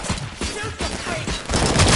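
Dense gunfire rattles through a firefight in RoboCop: Rogue City, a loud, continuous barrage of overlapping shots that fills the whole moment.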